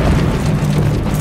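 In Call of Duty Modern Warfare 3, gunship fire hits a barracks with a loud, deep rumbling explosion that fills the whole moment with heavy low-end roar.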